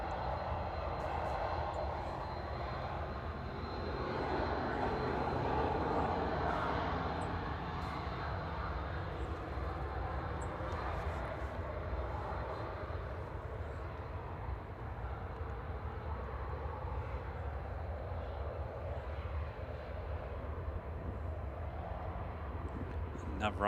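A Ryanair airliner inbound from Dublin passes over Manchester Airport, a steady broad engine roar holding moderately loud throughout, with talk heard over it.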